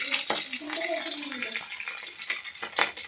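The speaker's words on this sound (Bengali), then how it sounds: "তো সেই মাছটা এখন ভাজা করছি" Tengra fish frying in a pan with potato and pointed gourd, a close, uneven crackling sizzle with clattering bursts throughout while someone talks over it.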